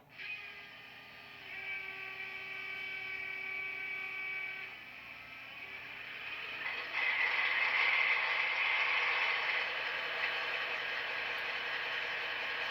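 A Scaletrains Big Blow Turbine model locomotive runs its startup sequence, steady whirring and mechanical hum building in layers and swelling into a louder, brighter turbine-like whine that holds alone to the end.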